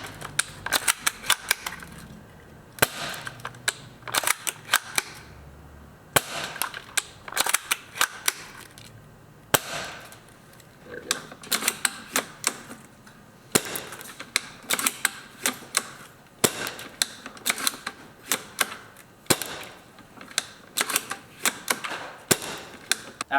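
Two Ares Amoeba Striker airsoft sniper rifles firing .20 gram BBs, sharp crisp snapping shots repeated irregularly in clusters, each with a short mechanical clack, close and clear against a quiet background.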